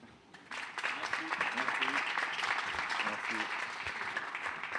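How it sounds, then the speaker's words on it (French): Audience applause at a business conference rises after a brief pause into a steady, fairly soft round of clapping, with voices speaking faintly under it. "Je crois qu'on peut les applaudir."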